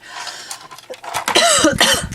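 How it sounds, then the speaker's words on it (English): A person with a tickly cough coughs several times in quick succession, harsh and close, with throaty rasping bursts and breaths between them. "Excuse me, I've got a tickly cough."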